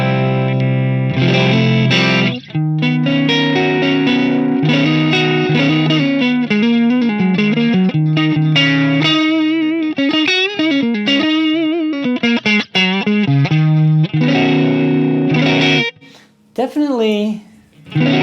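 An electric guitar runs through a Fractal FM3 modelling the ODS-100 amp with a mid-scooped tone, playing loud, sustained chords and melodic lines with light drive and chorus-like shimmer, ringing out alone before a brief fade.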